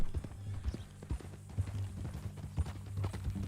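Horse hooves clip-clop at a steady walking rhythm in Red Dead Redemption 2, close and clear, with a faint low hum underneath.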